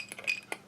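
A fork clinks and scrapes against a bowl while stirring berry food, giving a few light metallic taps in a short, quiet moment.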